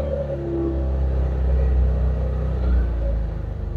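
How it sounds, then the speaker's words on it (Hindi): A car's engine idles and revs steadily as the accelerator is held down to warm it up, with elevated RPM; a continuous loud low rumble with slight swells and no speech. "मैं एक्सीलेटर दे के गाड़ी को गर्म करने की कोशिश कर रहा हूँ कि गाड़ी थोड़ी गर्म हो जाए"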